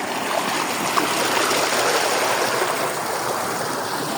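Water gushing from a running tube well turbine pump in a Punjab village, a loud, steady rushing splash heard close up and unbroken throughout.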